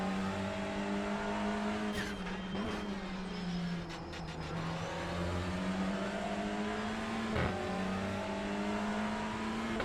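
A TCR touring car in an iRacing race start, its engine revving up hard through the gears with steady rising whine, layered with other cars nearby, loud and continuous with no talk.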